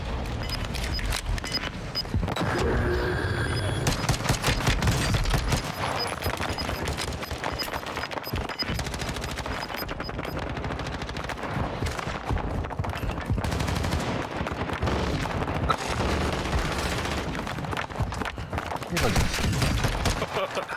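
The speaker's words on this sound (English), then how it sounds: "what is the other gun I'm hearing though?" Video game gunfire crackles almost without pause, with rapid automatic bursts and single shots layered thickly for the whole stretch, loud and dense, while someone talks at times underneath.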